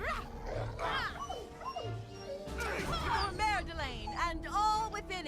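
Wolves growl and howl in a Neverwinter Nights 2 fantasy battle, with repeated rising yelps and howls over combat effects while someone talks throughout.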